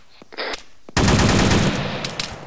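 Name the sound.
rapid gunfire in video game ArmA 3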